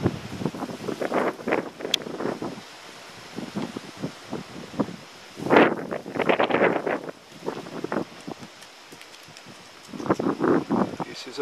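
Wind gusting across a microphone outdoors at sunset in Australia, producing low, rumbling buffets that surge in uneven bursts, loud at times and dropping away between gusts.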